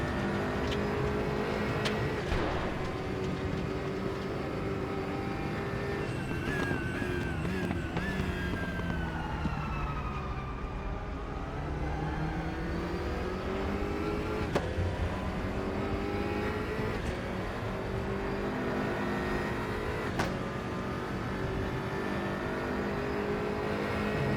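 A GT3 race car in RaceRoom on Chang International Circuit roars loudly and continuously, engine pitch sweeping down under braking and downshifts, then climbing again as it accelerates through the corner, with no talk.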